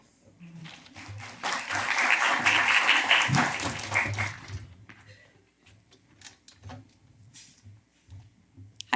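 Audience applause welcoming a speaker onto a panel at a business event, clapping building quickly, holding for a few seconds, then thinning out into scattered claps and room noise.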